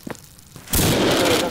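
An incendiary grenade thrown at zombies in the video game Codename CURE bursts into a loud, sustained roaring whoosh of fire after a quiet lead-in with a few faint clicks.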